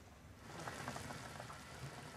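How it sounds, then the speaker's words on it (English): Octopus simmers in its own salty juices in a pot in Crete, a soft, continuous bubbling with gentle popping, quiet and steady throughout. "The octopus simmers in its own juices for half an hour"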